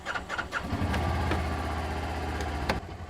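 A Kubota Sidekick gas utility vehicle engine cranks briefly and catches, then settles into a steady, close idle.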